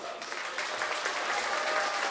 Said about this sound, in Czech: Takže tady pro kapelu, že je výborná, tak jeden potlesk